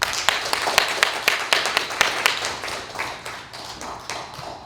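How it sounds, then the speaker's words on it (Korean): A small audience claps at an outdoor protest rally condemning North Korean terror against a defector human rights group. The separate, uneven hand claps start loud and close, then thin out and fade. "여러분, 정말 우리 박상학 대표의 빠른 쾌유를 빌면서 다시 한번 큰 박수를 보내주십시다."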